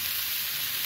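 Vegetables for a potato, cauliflower and soybean curry frying in a pan over a medium-low flame, a steady close hiss of sizzling oil filling the whole moment with no voices.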